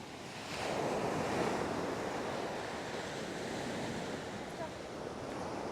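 Waves wash steadily onto Sunny Isles Beach, a continuous broad surf roar with gentle swells in loudness, mixed with wind buffeting the microphone, fairly faint and with no talking.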